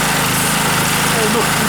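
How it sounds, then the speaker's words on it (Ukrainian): A GENERGY GORBEA 2.8 kW petrol generator runs steadily at close range, a loud, even engine drone with a buzzing rattle and no pauses. "Завівся він з першого разу, працює стабільно."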